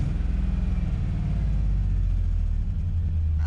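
An LS-swapped 1991 Chevrolet S10 V8 idles with a deep, steady low rumble close to the microphone, holding an even throb with a slight rise near the end.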